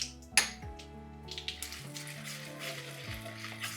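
Urad dal, chana dal, mustard seeds and cumin sizzle in hot oil for a sago upma tempering, a sharp crackle at the start settling into a steady frying hiss with light pan clinks.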